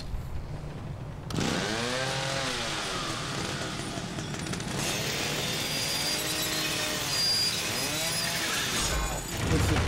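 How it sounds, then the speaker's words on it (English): A chainsaw in The Evil Within horror video game starts after a quieter moment, then runs loudly and continuously, revving up and down in repeated surges. "It's a chainsaw."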